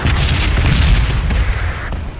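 Bombs in the PUBG video game go off as a continuous deep, rumbling barrage of booms and blasts, loud and dense throughout with no talk over it.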